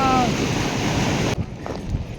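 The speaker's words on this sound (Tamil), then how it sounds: "தண்ணி செம ஃபாஸ்ட்டாக போகுது." Fast-flowing water rushes through a lake at a festival site, a loud, broad continuous roar with wind buffeting the microphone that eases slightly partway through.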